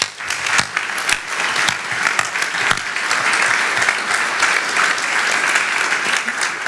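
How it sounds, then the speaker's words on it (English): An audience at a company event claps warmly, a dense, sustained burst of applause that stays loud and even throughout with no talking over it. "So please, warm applause for our partners."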